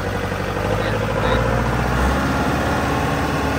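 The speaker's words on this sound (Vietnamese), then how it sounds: "Rồi bây giờ mình lên cái động cơ để thử cho anh em nghe nha." Diesel engine of a Kubota L4508VN tractor runs loud and close, a steady heavy rumble with slight swells in pitch, with no talking over it.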